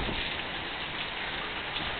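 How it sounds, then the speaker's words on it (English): Steady rain falls during a thunderstorm in Yuma, a dense unbroken hiss of drops on surfaces, close and even throughout with no voices. "I'm gonna go party in the rain after one more strike of lightning"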